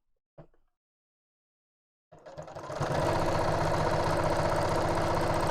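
A sewing machine stitches fabric, running steadily and loudly after a brief knock and a pause, with a dense mechanical whir throughout.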